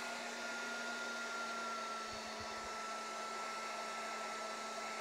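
A Makita DHG181 heat gun, under repair checks, blows hot air with a steady, even whooshing roar and a faint motor whine. The sound stays constant and close throughout, with a few brief low thumps partway through.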